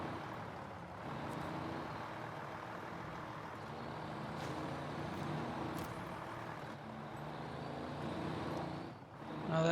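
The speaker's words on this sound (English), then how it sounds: "Handbrake release." A truck's handbrake air release in a truck-driving video game, a soft hiss over the steady low drone of an idling diesel engine, with a few brief puffs and a louder swell at the end.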